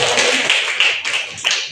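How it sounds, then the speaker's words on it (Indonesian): A classroom group claps after a group presentation, producing short, loud bursts of applause that rise and fall in a few uneven waves. "Kita aplaus sekali lagi."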